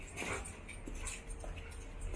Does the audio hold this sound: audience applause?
no